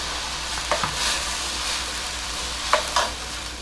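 A steady, loud sizzle fills the whole span as water goes into a hot pan while cooking methi (fenugreek) bhaji, with a few short metallic stirring clinks near the start and end and no talking.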